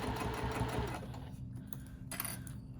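Sewing machine stitching a 1/8 inch seam allowance along a patchwork bag near an inset zipper, a close rapid whirring burst that slows and stops within a few seconds.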